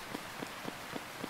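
Steady rain falls on a surface, a dense wash of patter broken by soft regular thuds like footsteps on a wet walk.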